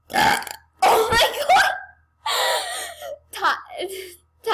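Several loud, drawn-out burps from a woman on camera, close and wet, in separate bursts with short gaps between them.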